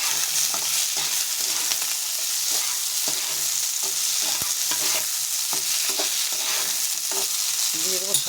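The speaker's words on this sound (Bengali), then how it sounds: "বেশি সবজিটা বেশি ভাজবো না, একটু নাড়াচাড়া করবো" Mixed vegetables with green chilli and tomato fry and sizzle in a pan while being stirred, a steady crackling hiss punctuated by frequent sharp spoon clicks and scrapes, close and loud, without talking.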